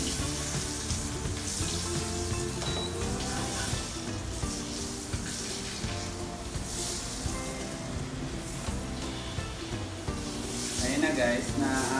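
Butter fries in a little oil in a pan, giving a steady dense sizzle that holds for the whole stretch and swells slightly toward the end, close and continuous, with faint talk beneath.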